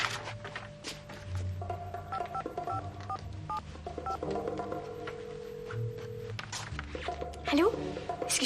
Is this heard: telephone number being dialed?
yes